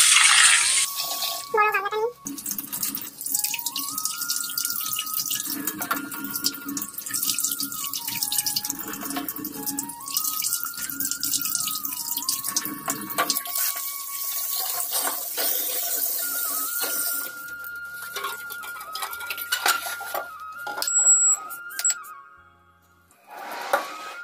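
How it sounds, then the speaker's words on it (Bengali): Eggs are rinsed under a running kitchen tap, with a steady splash of water into a sink, occasional drips and clatter, and a voice speaking over it at times before the flow stops near the end. "তো ভালো করে পরিষ্কার করে আগে ধুয়ে নিই"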